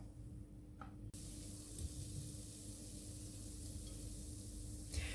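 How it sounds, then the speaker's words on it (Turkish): A steady sizzle of carrots sautéing in a hot pan, a constant close hiss that jumps louder after a moment and keeps going. "Havucumu da şöyle bir kavuracağım."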